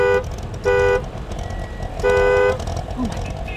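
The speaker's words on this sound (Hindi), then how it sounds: "हॉर्न मारो।" A car horn honks three times: two short toots, a pause, then a longer blast, over a noisy street background.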